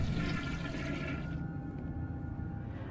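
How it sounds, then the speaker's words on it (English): A toilet flushing in the Indagar 2 horror game demo, a loud, close rush of water that swirls steadily and then thins toward the end, heard alone without talk. "And there has been a flushing."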